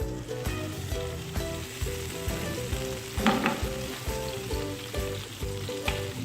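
Chicken sticks seasoned with tikka masala fry steadily in a pan, a continuous close sizzle with a brief louder crackle near the middle and no talking.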